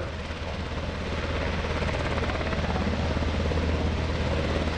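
A UH-60 Black Hawk helicopter runs steadily and loudly close by at an airshow, its rotor thumping in a continuous rapid pulse with engine whine, no voices.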